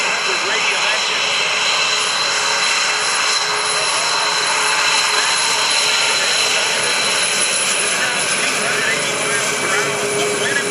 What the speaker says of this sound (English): Powered by a 1900 horsepower Wright R2600 radial engine.